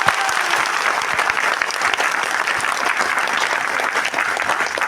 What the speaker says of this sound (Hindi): मैं चाहूंगा एक बार आईएमसी के लिए जोरदार ताली हो